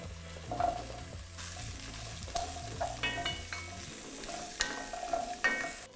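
Carrots searing in a pot for a vegan stew, a low sizzle with intermittent stirring scrapes and light clinks against the pot, close but fairly quiet, no voices.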